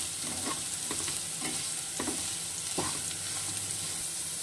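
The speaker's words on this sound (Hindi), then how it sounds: "ये आलू मैं धीमी आग पर फ्राई करूंगी" Potatoes fry on a low flame in a pan, a soft continuous sizzle with gentle stirring scrapes every half second or so, quiet and without talk.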